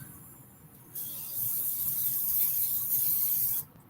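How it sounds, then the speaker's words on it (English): Cooking oil is sprayed onto an air fryer pan in one sustained, close, hissing burst lasting under three seconds, rising sharply and cutting off, between quiet rustling. "let's spray our little air fryer pan"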